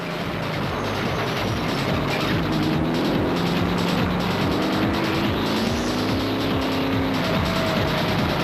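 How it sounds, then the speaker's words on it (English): A 7-litre off-road race car engine growls loudly and continuously, its pitch rising and falling as it revs, with mechanical rattling during a South African off-road race in 2007. "with Variawa and Rousseau's 7-litre engine growling behind them"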